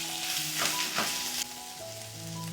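Tomato, ginger-garlic paste, chili, cumin and coriander powder sautéing in a pan for a small-potato and pea dum, giving a dense, close, continuous sizzle with stirring swells and no talk.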